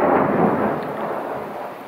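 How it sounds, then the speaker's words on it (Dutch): A thunderstorm with heavy rain: a loud, broad rumble of thunder rolls and slowly fades over a dense, steady downpour, with no voices. "En het onweert en het regent als een malle."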